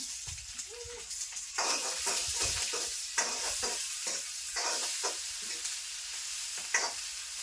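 Green chillies fry in a pan with a bright, continuous sizzle, broken by repeated scraping and stirring strokes close by, with low knocks of a spoon against the pan.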